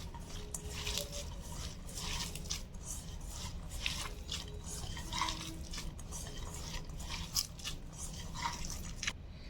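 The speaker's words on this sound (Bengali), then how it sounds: "আমি মশলাগুলো সবগুলো ইনগ্রেডিয়েন্টস একসাথে হাতে মেখে নিয়েছি" Hands squeezing and kneading spices, salt, onion and green chili together into a soft mix for a small-fish chorchori with olives, a continuous close, wet squishing and crunching without speech.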